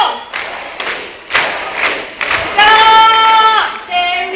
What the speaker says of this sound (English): When the match starts, I need you to clap your hands